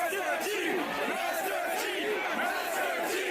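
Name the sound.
concert crowd cheering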